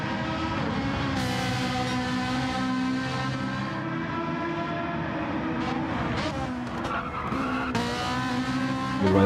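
A race car crosses the line to begin its first flying lap, its loud, continuous engine roar pitched up and shifting through gear changes, heard close and on board throughout.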